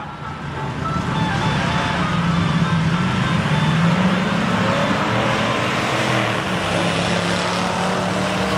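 Drag racing cars, a Buick and a 1960 Chevy Impala, running on a dragstrip, a sustained loud engine roar that builds and holds at a distance.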